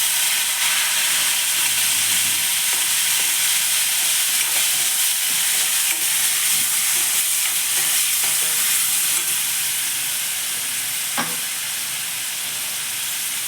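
Curry leaves, crushed garlic and chopped tomato fry in a pan for a horse-gram rasam, giving a steady, close sizzle and hiss with a few soft stirring clinks.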